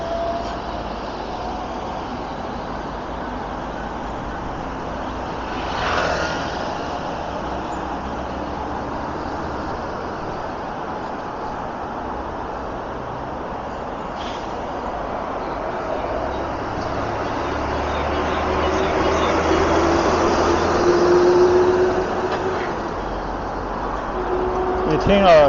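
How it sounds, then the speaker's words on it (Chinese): Street traffic with dump trucks, cement trucks, buses and private cars passing produces a steady roar that swells in the second half. Someone talks over it throughout. "你听啊，这个街上走的各种车辆，尤其是泥头车啊，还有呢水泥的工程车、大巴，各种各样的私家车啊呼啸而过"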